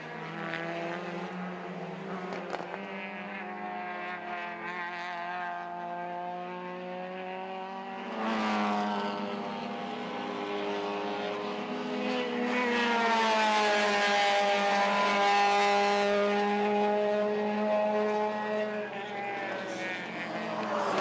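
Turbocharged race cars in the B-Quik Thailand Super Series at a circuit, several engines droning and rising in pitch as they accelerate, growing louder mid-clip with overlapping harmonic whines.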